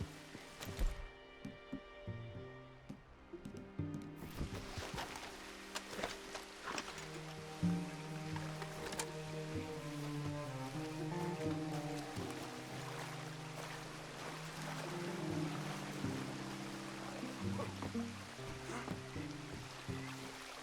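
A canoe glides along a river in Red Dead Redemption 2, with paddle splashes and gentle water sloshing beneath a steady tonal music bed, fairly quiet throughout and without speech.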